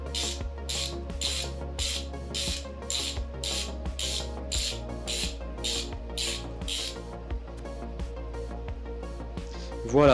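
A ratchet wrench tightens a timing pulley bolt on a Nissan 350Z engine, sounding as a brisk series of about a dozen evenly spaced clicking bursts, then slower faint clicks and a closing clunk.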